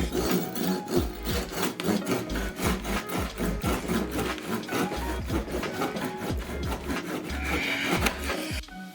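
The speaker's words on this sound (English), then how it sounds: "enjoy some sped up footage of me cutting each and every cookie way too big" A knife saws through a baked biscotti loaf, slicing it into cookies with a rapid, gritty rasping and scraping, sped up and continuous, with repeated short crunching strokes close to the microphone.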